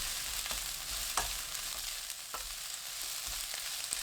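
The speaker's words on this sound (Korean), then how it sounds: "10초 뒤 갓 줄기 부분 넣고 30초 볶습니다." Steady sizzling of red mustard green stems being stir-fried in a hot pan with garlic and scallions, with a few scraping stirs and clatters of a utensil against the pan.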